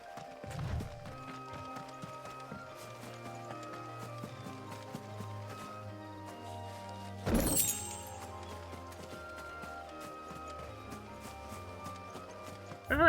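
Horse hooves clip-clop at a steady walking rhythm in the video game Final Fantasy XVI, fairly quiet beneath sustained game music, with one brief louder crash partway through.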